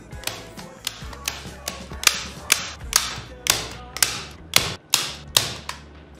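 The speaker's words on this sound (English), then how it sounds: "conceal the bottom with fabric using your staple gun" A staple gun fires repeatedly as fabric is fastened to the underside of a homemade Teddy chair, giving about a dozen sharp, evenly spaced clacks up close with no talking.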